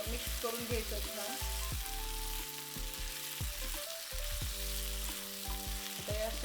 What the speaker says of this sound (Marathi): तेल सुटलेलं आहे. खूप छान असं मिक्स करून घ्यायचं